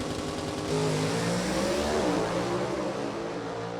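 A powerful drag racing car engine roars and accelerates hard at an NHRA race, its pitch rising and falling, loud and continuous with no voices.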